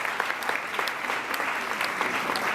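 A congregation applauds during a church worship service in Kitengela, a dense, steady clapping that stays loud and even throughout.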